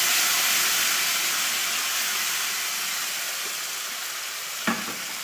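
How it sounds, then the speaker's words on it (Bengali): Jackfruit pieces hit a hot frying pan for a simple jackfruit curry, bringing a loud, continuous sizzle that slowly eases, with one sharp clack of a utensil near the end and no voices. "এখন আমরা কাঁঠালটা ঢেলে দেব।"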